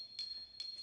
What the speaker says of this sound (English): at the opposite end, we have the C8 hand chime.